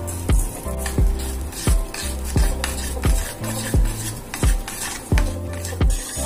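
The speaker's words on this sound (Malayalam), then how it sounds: "നമ്മൾ നിരന്തരം അങ്ങ് ഇളക്കി കൊടുത്തുകൊണ്ടിരിക്കണം" Caramel being stirred continuously in a pan as sugar melts, with a steady rhythm of loud utensil scrapes and clanks against the pan over a soft sizzle, about ten strokes, no voices.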